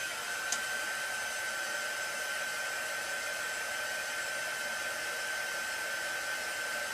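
A hair dryer blows steadily over a mixed media art journal page, a close, loud, unbroken whooshing hum with a faint high whine running throughout, with no talking.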